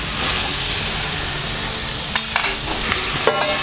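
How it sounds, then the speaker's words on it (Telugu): Fish pieces frying over a high flame for Andhra-style desi fish soup give a steady, loud sizzle throughout, with a few sharp clicks and scrapes of stirring near the end. "కొంచెం హై ఫ్లేమ్ మీద మనం దగ్గరుండి హై ఫ్లేమ్ పెట్టి కొద్దిసేపు ఫ్రై అవ్వనివ్వాలి."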